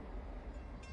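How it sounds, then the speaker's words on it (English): An EMD 645 diesel locomotive engine throttling up outdoors in cold, snowy weather at a rail yard: a dense, steady low rumble with broad roar, fairly loud and without speech. "Not wanting to interrupt the sound of an EMD 645 throttling up"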